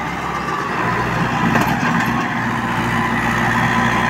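A Swaraj tractor hauling a trailer of about 18 quintals of sand strains uphill, its engine droning loud and steady with a low, laboring rumble and no break in the sound.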